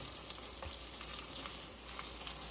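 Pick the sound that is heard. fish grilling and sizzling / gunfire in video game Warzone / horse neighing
fish grilling and sizzling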